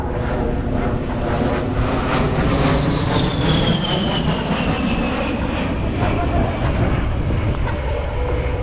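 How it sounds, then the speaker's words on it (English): A-10 Thunderbolt II jet engines at an air show, a loud steady roar with a descending whine as the aircraft sweeps past, with announcer talk over it. "They're much quieter than comparable engines, making the Warhawk much harder to hear"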